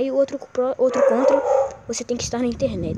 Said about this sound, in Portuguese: Desculpa o cachorro latindo aqui, é do vizinho